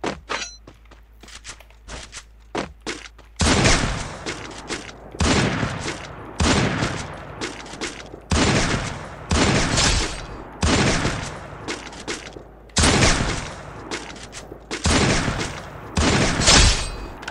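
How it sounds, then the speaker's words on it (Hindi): Repeated gunfire in a mobile battle-royale game played solo against duos with a sniper rifle, sounding as about eight loud, sharp bursts spaced a second or two apart, each with a short decaying tail, following quieter scattered clicks. "स्नाइपर के साथ खेल रहा हूं मैं"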